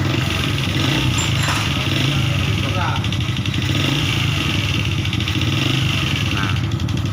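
A Yamaha X-Ride motorcycle engine idles steadily after the ignition key is switched on, a close, constant low putter running throughout with a person talking over it.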